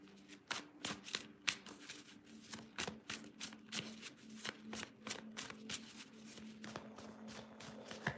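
A steampunk tarot card deck being shuffled by hand, a quick run of soft, riffling card flicks and taps in a steady rhythm, close and fairly quiet with no talking.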